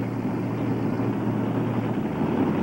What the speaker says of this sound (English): The amount of methanol fuel that goes to those engines is just unbelievable